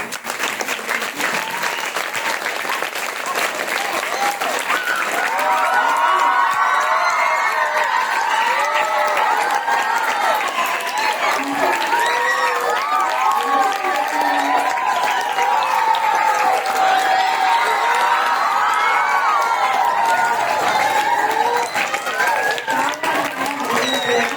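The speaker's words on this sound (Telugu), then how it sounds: "టీచర్లకి ఇన్ని చప్పట్లు" An audience claps for teachers at a school function, the applause loud and sustained across the whole stretch, with scattered cheers and children's voices mixed into the dense clapping.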